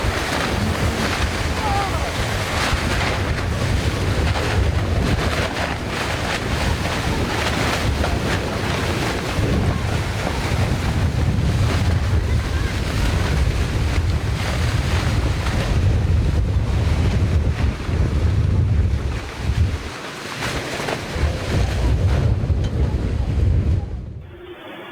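Strong wind roars across the microphone as waves pound a sailboat at sea, a dense, loud, continuous rush of surf and gusts with water crashing throughout, cutting off abruptly at the end.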